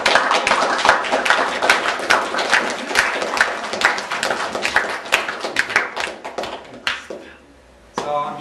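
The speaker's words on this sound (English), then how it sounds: "Now I'd like all the students to give them a clap." Students at a graduation dinner give the standing teachers and staff a round of applause, many hands clapping in a dense, lively burst that thins out near the end, followed by a short murmur.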